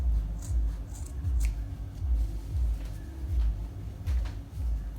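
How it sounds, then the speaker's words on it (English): Scissors snip through fabric being cut out for a mermaid (trumpet) skirt, a steady run of soft repeated low crunching cuts close by, with no talking. "so I'm gonna cut the back first."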